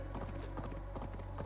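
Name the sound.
horse hooves clip-clop while riding, Assassin's Creed Valhalla video game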